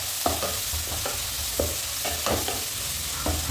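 Onions, green chillies and curry leaves sautéing in hot oil for a prawn curry, a steady close sizzle broken by a spoon or spatula scraping and stirring the pan every half second or so.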